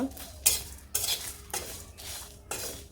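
Panch phoron and dry red chilies frying in a pan, stirred in repeated scraping strokes roughly every half second over a light sizzle, nearby and without speech.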